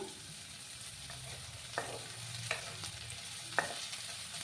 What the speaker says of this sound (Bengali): পেঁয়াজগুলোকে একটু লাল করে আমি ভেজে নেব।